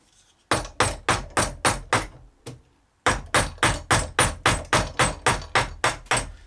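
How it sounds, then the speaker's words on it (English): Mallet blows driving a big carving chisel into end grain on wood held in a Stanley Hobby Vice STA183069. Loud, evenly spaced strikes come in a run of six, a short pause, then about a dozen more, with no talking. "we use this big carving chisel and this mallet"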